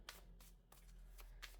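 A deck of cards is shuffled in quick riffling bursts, five short crisp flutters in about a second and a half, close but quiet, with no talk.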